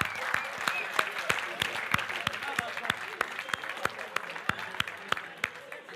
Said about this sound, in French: Est-ce qu'on peut acclamer le frère Alex?